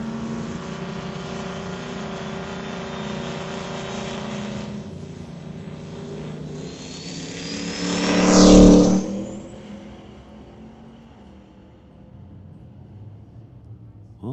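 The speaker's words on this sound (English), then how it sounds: "Gonna make a test hit in his limited street little Fox body Mustang." Turbocharged limited-street Fox body Mustang making a drag racing test run at a night race, engine droning at a distance, then swelling into a loud roaring pass at about eight seconds before fading away down the track.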